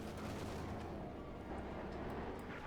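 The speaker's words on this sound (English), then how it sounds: "Panther 4 shooting away there." Panther tank gunfire in a Company of Heroes 2 World War II strategy game battle: dense, continuous rumbling barrage of gunfire and explosions, loud and unbroken throughout, with no talking.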